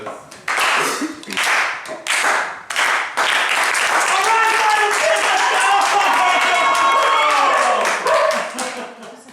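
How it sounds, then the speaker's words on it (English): A group slow clap, with loud claps spaced out at first, then giving way to a noisy stretch of voices and cheering. People are talking throughout. "Final 10 slow clap"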